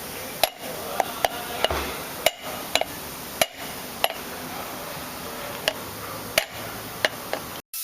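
Hammer strikes driving bearings into a worn kingpin on a Freightliner truck: sharp metallic taps at irregular intervals, about a dozen in all, some in quick pairs, over a steady background hum.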